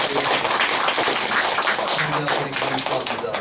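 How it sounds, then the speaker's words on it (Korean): Applause from a church congregation honoring a newly appointed elder at a Methodist service, dense steady clapping filling the room throughout, with some murmuring voices underneath. "박수에 박수"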